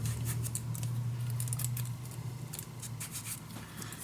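Paper cut with scissors while assembling a handmade mini album in a storage box, a steady close snipping and rustling with a low hum underneath and no talking.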